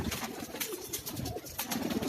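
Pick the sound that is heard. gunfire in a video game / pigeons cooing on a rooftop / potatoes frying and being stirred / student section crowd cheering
pigeons cooing on a rooftop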